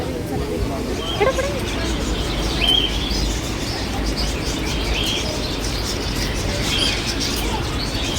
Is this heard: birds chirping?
yes